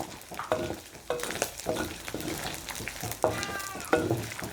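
Pork ribs frying in a pan, with a steady sizzle, occasional stirring scrapes and clatters, and a few higher squeaky sounds, close and fairly loud.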